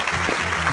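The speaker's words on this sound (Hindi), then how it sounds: "जोरदार तालियां और जोरदार" A brief burst of clapping welcomes a director on a drama set, short and fairly close, with a faint voice mixed underneath.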